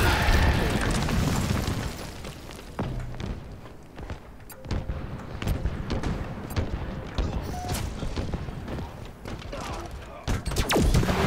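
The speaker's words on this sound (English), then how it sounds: "the rocket launcher coming from the right" Rocket launcher blasts and gunfire in a multiplayer shooter game, a dense run of booming explosions and sharp bursts filling the whole stretch, loud and continuous with a player's voice talking over parts of it.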